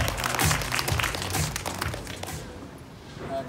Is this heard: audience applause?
yes